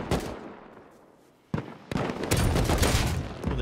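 AK rifle firing in the video game Rust, a sharp shot followed by a decaying tail, then sustained rapid bursts of gunfire, loud and close.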